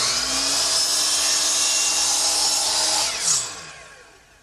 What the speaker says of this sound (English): I'll do that right here on the miter box